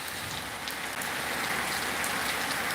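Steady rain pours down outdoors, a dense, even hiss of drops striking surfaces throughout, with no voices.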